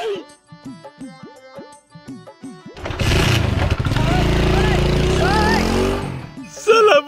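A motorcycle engine kicks over with a few sputtering coughs, then catches and roars loudly with rising revs as it pulls away. A voice talks over the start.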